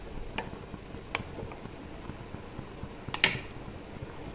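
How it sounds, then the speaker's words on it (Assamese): A pot of fish curry with potato and tomato simmers at a low, steady bubble, with a few soft pops and one sharper burst breaking through near the end; no voices. "এইখিনি আৰু 5 মিনিট সময় উতলিবলৈ দিম"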